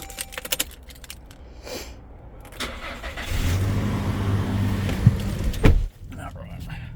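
A 2021 Toyota Hilux Workmate dual cab 4x2 starts up close by: keys jangle first, then the engine catches and settles into a steady low idle, with a brief louder rev near the end.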